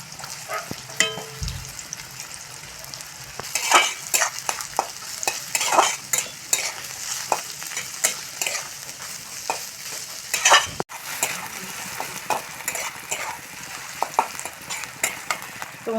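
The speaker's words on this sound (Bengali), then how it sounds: "তো গাজরগুলো ভেজে নেব।" Chopped carrots frying in hot white oil, a continuous sizzle with repeated scraping and stirring strokes from a spatula in the pan, a brief cut near the end, no voices.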